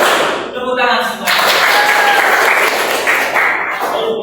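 A class group in a teacher competency assessment session claps together in a dense, steady burst of applause lasting several seconds, loud and close, following a brief spoken cue.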